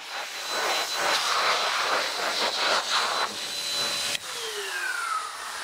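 An air blower drying water off a washed motorcycle roars loudly and steadily throughout, its rushing hiss wavering slightly and then shifting pitch near the end.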